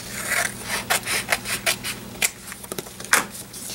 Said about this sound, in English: Just kind of trim those edges down.